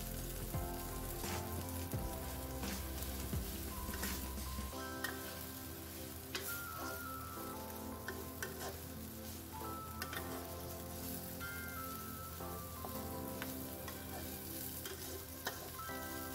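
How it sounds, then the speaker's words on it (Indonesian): Shelled clams sizzle and fry in a reduced spice paste in a pan, a steady close crackling hiss with stirring scrapes throughout. "Selanjutnya saya akan masukkan kerang yang udah dikupas tadi."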